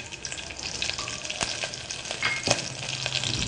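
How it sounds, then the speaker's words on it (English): Curry leaves and slit green chilies frying in hot oil inside a pressure cooker, giving a steady close sizzle with a few sharp crackles and pops and no talking. "Once the oil's hot, add some curry leaves. Add slit green chilies"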